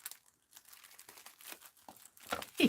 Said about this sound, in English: Now, I am going to have to cut it.